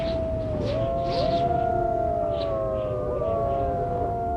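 Wolves howling in a fantasy RPG video game, several long overlapping wavering howls rising and falling, fairly clear against a soft ambient background.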